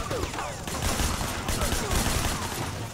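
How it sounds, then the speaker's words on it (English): Rapid gunfire in a first-person shooter video game, a dense volley of consecutive shots that stays loud and continuous throughout, with voices talking over it. "That was some good consecutive shots, James."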